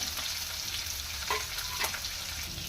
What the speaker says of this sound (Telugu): మిర్చి కూడా వేగుతున్నాయి కదా